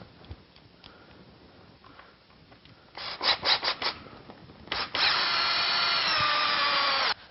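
A power drill drives screws into a laminate countertop backsplash. Soft handling and shuffling give way to several short, loud whirring bursts, then one long steady drilling run of about two seconds.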